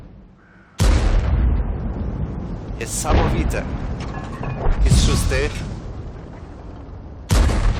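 Heavy tank cannon shots and explosions from the game World of Tanks, several loud booming blasts with rumbling decay, the first after a brief quiet start and another at the end, with someone talking over them.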